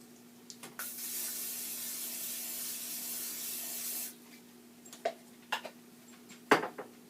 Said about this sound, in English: we're going to spray this with a little nonstick.